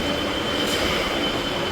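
A non-AC Sai Travels bus pulls away on the Mumbai-Goa Highway, its interior filled with a steady, close rumble of engine and road noise with a faint high hiss, continuous and unbroken.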